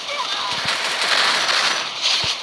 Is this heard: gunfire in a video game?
yes